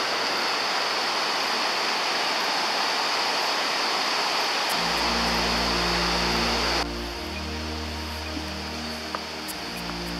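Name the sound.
water flowing at a spring source of the Pliva river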